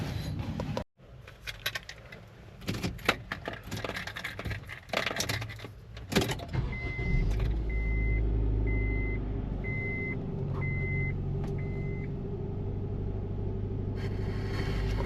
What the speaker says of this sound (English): I'm gonna go ahead and turn on the car.